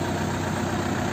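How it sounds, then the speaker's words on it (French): A small farm tractor's engine runs steadily at idle, a constant low, even rumble at moderate distance with no voices over it. "il a sorti le tracteur"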